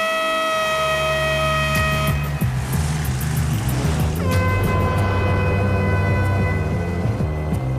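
A loud, flat vehicle horn blares in long sustained blasts over steady engine and traffic noise, with no melody to it.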